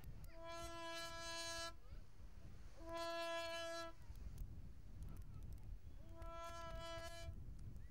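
A whale crier in a seaside whale-watching town blows a kelp horn, giving three sustained, steady tooting notes with a low background murmur between them.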